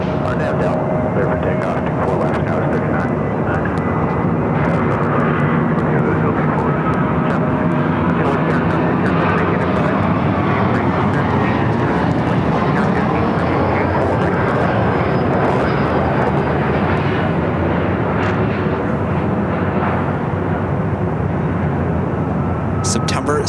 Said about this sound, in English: A350-900 coming in from Munich, number 2 for arrival here on the north side